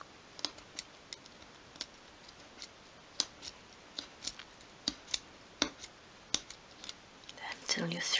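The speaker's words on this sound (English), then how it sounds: "just keep going until you've cut all the way through" A knife tip nicks through material for a 1/12th scale miniature magazine rack in a series of small, sharp, evenly spaced clicks, close and quiet, repeated slowly one at a time.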